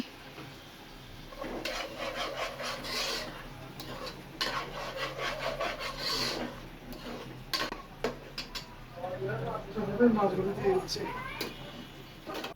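A spatula scrapes and rubs through spice paste with tomato ketchup as it is sautéed in a pan for a Chittagong-style loitta (Bombay duck) fish curry, with steady rasping strokes at close range and bursts of sizzling.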